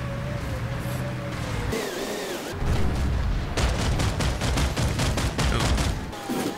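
Heavy gunfire from vehicle combat in Planetside 2 breaks out after a quieter opening, with dense, rapid bursts and booming shots running steadily to the end.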